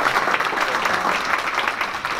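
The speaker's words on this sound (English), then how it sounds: "Can we please give him a nice round of applause?" A community band concert audience in Rochester gives a guest artist a round of applause; steady, dense clapping from a crowd, even and sustained throughout.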